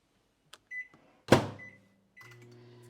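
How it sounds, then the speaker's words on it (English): A short clatter and thump, then a steady low hum with a faint whirring drone as a microwave oven starts heating water. "I'm going to do that in the microwave"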